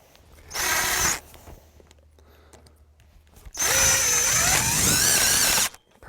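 A power drill drives screws into a greenhouse frame in two bursts, a short whine then a longer one that rises in pitch as the screw tightens, with near silence between them.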